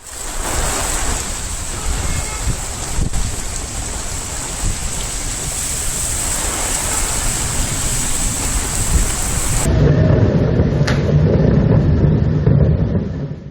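Loud, dense monsoon rain pours down continuously in Hyderabad with a low rumbling undertone; the sound turns duller and muffled near the end.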